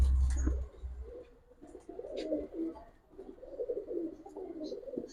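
Young Giribaz and coloring pigeons coo at a pigeon seller's stall, with a soft, rolling, moderately near burble that repeats in uneven phrases, over faint background noise and brief light rustles.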